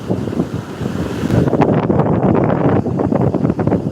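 Waves crashing fast onto a beach, with a rough surge building and then roaring loudly for the second half, mixed with gusty wind buffeting the microphone.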